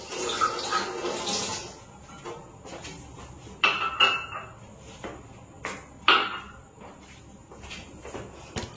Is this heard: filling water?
yes